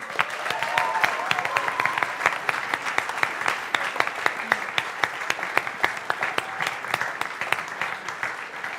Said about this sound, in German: darum einen grossen Applaus für euch heute Morgen